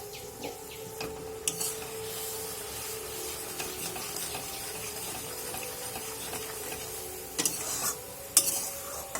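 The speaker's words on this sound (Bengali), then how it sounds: "একটু নাড়াচাড়া করে নেওয়া হচ্ছে।" Spoon stirring shukto, a Bengali mixed-vegetable dish with raw milk added, in a pan; a steady soft scraping and faint simmer with a few sharper knocks of the utensil near the end.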